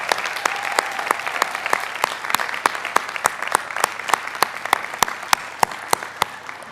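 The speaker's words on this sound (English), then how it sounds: "Let's give them a big round of applause." A graduation audience at a Johns Hopkins School of Education ceremony claps steadily, moderately loud, with sharp individual claps standing out above the sustained applause.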